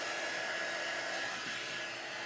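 Steady whooshing blower noise of a hair dryer or heat tool drying craft work on a wreath, running continuously, broadband and even, with no voices.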